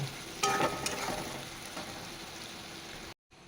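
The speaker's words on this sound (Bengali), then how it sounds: "দেখো কি সুন্দর পেঁয়াজটা লাল লাল ভাজা হয়ে গেছে।" Chopped onions fry in oil in a pan while a Bengali tilapia curry with sesame is cooked. A steady soft sizzle is heard, broken by a few scraping stirs, before it cuts off abruptly near the end.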